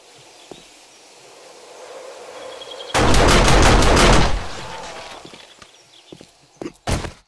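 A burst of rapid automatic gunfire from a turret in the video game 7 Days to Die rattles loudly for over a second, followed later by a couple of sharp single shots amid quieter game ambience.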